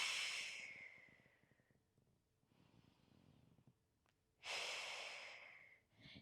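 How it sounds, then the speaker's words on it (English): Slow, deep breaths close to the mic during a lumbar back exercise: a long hissing exhale, a quiet pause, then another strong breath. "Put your hands on your rib cage, just breathe."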